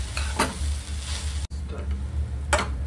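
Grated sweet potato for fasting halwa is stirred and roasted in a pan, with steady sizzling and a low hum under repeated scraping strokes that come close and clear, separated by a brief dropout.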